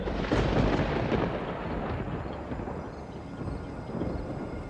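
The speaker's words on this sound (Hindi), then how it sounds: "बारिश होने लगी, बिजली कड़कने लगी।" Heavy thunder rumbles through a downpour of rain, loud and broad at first with a deep roll, then easing into a steadier wash of storm noise with no voices.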